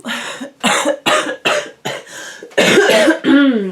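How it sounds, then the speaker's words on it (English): A person coughs repeatedly in short, harsh bursts, close and loud, with brief pauses between fits, ending in a longer raspy cough. "Excuse me, there will be coughing, I'm sorry."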